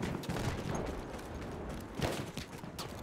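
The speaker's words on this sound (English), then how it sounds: "Oh, it's a fucking sniper." Distant sniper rifle shots in a Battlefield 1 Conquest match, with two or three sharp cracks standing out over steady battlefield noise and rumble.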